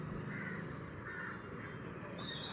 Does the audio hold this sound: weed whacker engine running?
no